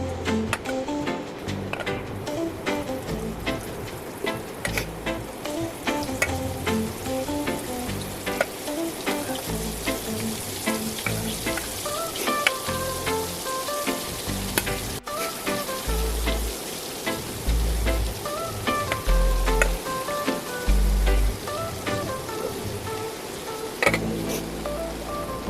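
Bitter gourd frying in a hot pan of oil crackles and sizzles steadily, with dense popping and spitting throughout and a few heavier low thumps toward the end.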